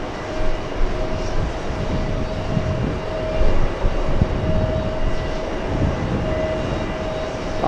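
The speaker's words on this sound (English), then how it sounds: "Alright, there you go, we have some planes moving" Airplanes moving at JFK airport, a continuous low rumble of jet engines at a distance with a steady whining tone, no talk.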